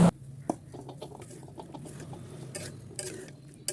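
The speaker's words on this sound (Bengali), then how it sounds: "আমি তেলের মধ্যে পেঁয়াজ, রসুন আর গোটা জিরে দিয়ে সব কিছু একসঙ্গে বাগার দিয়ে দিলাম" Onion, garlic and whole cumin are tempered in hot oil for a mixed vegetable dish, a sharp clatter of utensil against the pan followed by soft sizzling and stirring scrapes, with no voices.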